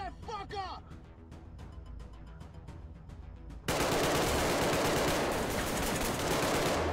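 Heavy automatic gunfire in the VR shooter Arktika.1, a loud dense burst that erupts after a stretch of quieter game sounds and chatter, continuing steadily to the end.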